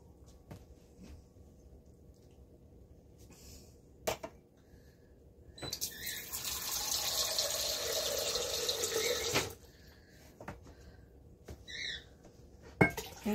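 Cold water runs from a kitchen tap for about four seconds, a steady close rush filling a cup for cake mix, set amid quiet kitchen clatter and a few sharp knocks.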